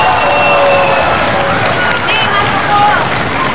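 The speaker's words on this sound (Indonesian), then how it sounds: "Tepuk tangan dong buat Jiro." A television studio audience applauds and cheers for a guest on a talk show, a loud, dense crowd roar with clapping and some whistles.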